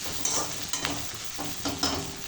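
Onions sizzling in a pan as they fry toward golden, a steady close hiss broken by a few soft stirring scrapes.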